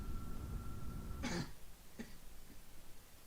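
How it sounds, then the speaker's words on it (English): A single close cough, followed by a fainter throat-clearing sound, over a low background hum. "Cough."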